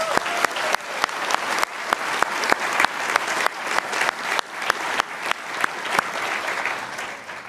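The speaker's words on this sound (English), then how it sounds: "Please join me in a round of applause to thank all of them for being here to celebrate everyone's success" An audience at a graduation ceremony applauds, dense continuous clapping from a large crowd with sharp individual claps popping out near the front, holding steady before tapering slightly at the end.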